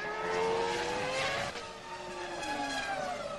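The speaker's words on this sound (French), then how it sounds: "lorsque soudain, la Ferrari de Barrichello perd pied" Barrichello's Ferrari Formula 1 car in the 2002 season losing grip, a loud high engine whine with tires squealing and skidding, pitch sliding down as the car slips away.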